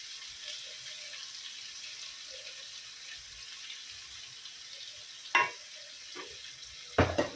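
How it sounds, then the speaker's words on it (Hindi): Onions sizzle in oil in a pan with a steady, faint hiss, broken near the end by a few louder scraping stirs; no talk. "प्याज डाले ना फूल, इसमें 5 मिनट नहीं 10 मिनट तक भूनेंगे, तेल ऊपर आने तक भूनेंगे"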